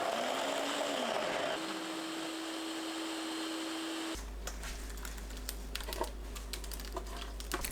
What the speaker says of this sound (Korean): 홍고추 넣고 거치게 갈아주세요.